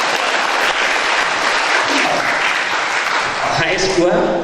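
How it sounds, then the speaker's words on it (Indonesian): An audience applauds the launch of a new noodle brand at a Nahdlatul Ulama product event, a dense, loud, continuous roar of clapping with voices mixed in and rising briefly toward the end. "Tepuk tangan buat HS Gua."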